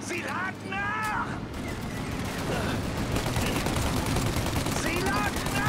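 Rapid bursts of video game gunfire in Mafia Definitive Edition rattle densely and loudly for several seconds, with someone speaking over the shooting at the start and end.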